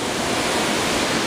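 A waterfall on Laurel Creek gives a dense, steady rushing roar, loud and close, with no voices over the brief stretch.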